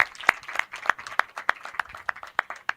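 A small audience claps at an alumni association emblem unveiling, with distinct, fairly regular claps about three per second, close and sparse rather than a dense roar.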